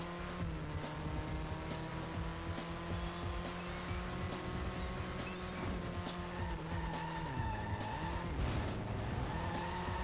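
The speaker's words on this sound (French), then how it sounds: "une fois qu'on est en tête à queue, la voiture elle vise d'un coup" A race car engine drones with sustained tire squeal as it skids into a spin in the PS2 racing game Driven. The whine dips and wavers near the end, with no talking.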